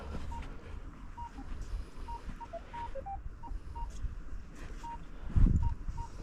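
Short electronic beeps from a metal detector passing over a can repeat at an uneven pace over a faint background hiss, with a brief low thump near the end.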